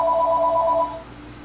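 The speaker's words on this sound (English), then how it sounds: "This is going to ring for a while, I'm sorry. Let's wait till the phone stops." A telephone rings close by with a rapid trilling electronic tone that lasts under a second, then cuts off, leaving a faint hum.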